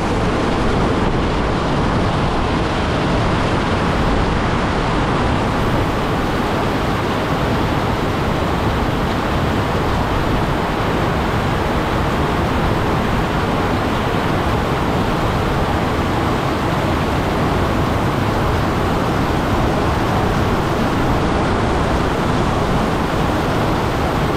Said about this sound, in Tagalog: Lakas rin ang tubig ulan na binubuhos.